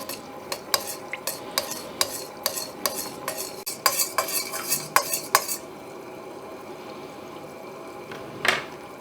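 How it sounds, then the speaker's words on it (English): A utensil stirs melted oils, waxes and beeswax in a pan over very low heat, scraping and clinking against the pan in a steady rhythm that fades to a faint simmer, with one last clink near the end. "So you will stir that gently now on a very low heat until the beeswax dissolves."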